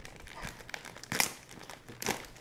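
A soft plastic bag crinkles inside a parcel being unpacked, a few short crackling bursts at close range, fairly quiet.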